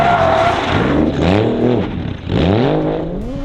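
A Toyota JZX100 Chaser drifts around a greenhouse, its engine loud and close with rising and falling revs as the car slides through the turn, with no voices.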